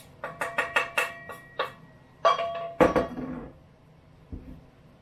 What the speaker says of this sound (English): I'm going to whisk it up a little bit by hand here